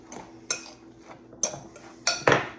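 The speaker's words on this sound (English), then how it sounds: "I'm going to give that a stir" A spoon stirring half a teaspoon of salt into potato pancake mixture in a bowl, heard as a few sharp, separate clinks and scrapes against the bowl, close and fairly quiet, with no talking.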